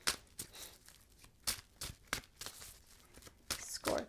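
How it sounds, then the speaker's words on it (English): A deck of tarot cards is shuffled by hand, giving bursts of crisp riffling and slapping at irregular intervals, close and moderately loud against a quiet background. "two more shuffles, one more shuffle"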